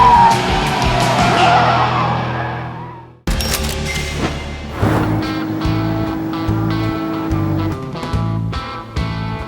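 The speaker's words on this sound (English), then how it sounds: "Drifting makes driving fun." A Hyundai Ioniq 6 N electric performance car drifting, loud tyre squeal and skidding roar that fades out, then another long screeching slide with shifting pitch, close and intense.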